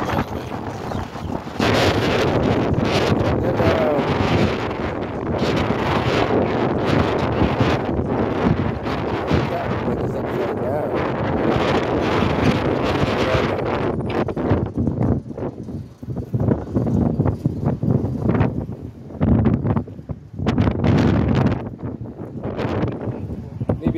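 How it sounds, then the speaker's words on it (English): Strong wind buffets the microphone continuously in loud rumbling gusts on a street, with speech partly buried underneath. "It's kind of windy out here too"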